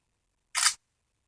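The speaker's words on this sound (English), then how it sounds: "I know it does have this one click shutter button, so when you click it, it's not going to focus." A single short shutter-button click on a ZTE Boost Max phone camera, a crisp burst standing alone in otherwise silent surroundings.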